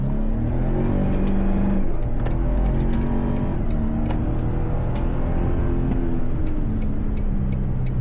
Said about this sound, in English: Now in sport mode, the transmission does get really, that throttle response does get really accelerated here